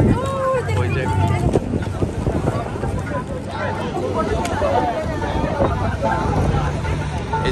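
Gunboat moving past on open water among fishing and tourist boats, a low engine hum and wash under wind noise and steady nearby chatter of several people.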